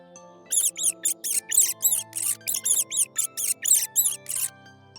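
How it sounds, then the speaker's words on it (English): A mouse squeaking in a rapid series of about thirteen short, high-pitched chirps in quick rhythm, close and clear against a quiet background. "mouse"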